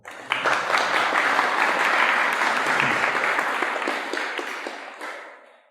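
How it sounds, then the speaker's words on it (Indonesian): An audience breaks into loud applause for a preacher during an Islamic talk show, dense clapping that holds steady for several seconds and then fades out. "Tepuk tangan buat Ustadz Harun."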